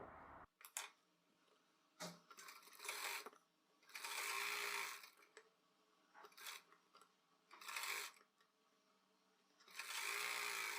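A sewing machine stitches the folded side edges of a salwar in several short runs of rapid whirring, separated by pauses with small clicks and handling, quiet and close, no talk.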